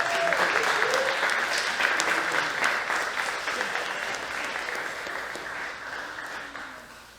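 Sustained applause from an audience at a martial arts community award event, steady and dense, fading slowly toward the end.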